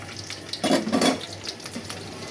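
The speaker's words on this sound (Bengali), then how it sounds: "আমি শুধু আলু দিয়ে এভাবে কোটিং করে ভাজছি" Eggs coated in potato fry in a pan, a soft steady sizzle with a couple of brief louder bursts of crackle and utensil contact, close and without talk.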